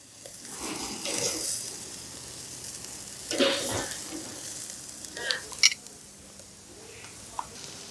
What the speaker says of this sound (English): these have seared good for about a couple minutes on each side